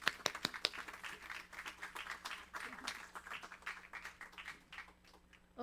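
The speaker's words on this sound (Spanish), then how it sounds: "démosle por favor un fuerte aplauso" Applause from an audience at a Spanish heritage-language teaching workshop, starting with a few sharp claps that swell into steady clapping, then thin out and fade.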